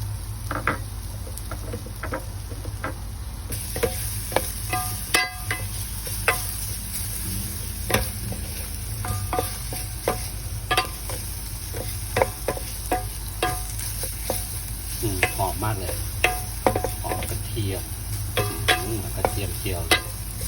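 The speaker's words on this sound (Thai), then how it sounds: "ใส่กระเทียมนะครับ ผัดให้มันเหลืองๆนะครับ" Garlic stir-frying in a hot pan, a steady loud sizzle running the whole time with frequent sharp scrapes and clacks of a utensil against the pan, no talking.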